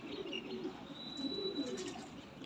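Pigeons at a Lahore bird show, soft low cooing and murmuring from nearby birds with a few faint chirps and light background noise, no one speaking over it.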